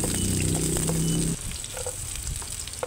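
Crushed garlic and sliced onion sauté in a pan for chicken adobo, giving a loud, close, continuous sizzle that drops to a softer fry partway through, with faint clinks of stirring.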